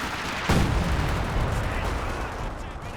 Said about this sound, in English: Some base howitzers from the assault officer